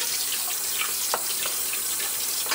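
Steady running tap water pours into a kitchen sink while rice is rinsed under it, a continuous splashing hiss with small bursts of sloshing as the grains are stirred.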